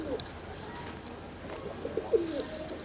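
Soft, close cooing comes from an Imamdin-bloodline male racing pigeon, a few low murmured coos over faint background hiss.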